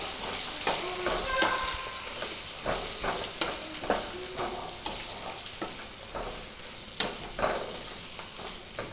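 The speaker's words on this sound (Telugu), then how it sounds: "కట్ చేసి పెట్టుకున్న ఉల్లిపాయలు బాగా మిక్స్ చేసుకోవాలి." Chopped onions stir-fried with asafoetida for tomato pachadi: a steady sizzling hiss runs throughout, broken by scattered spatula scrapes and clinks against the pan, close and moderately loud, with no voices.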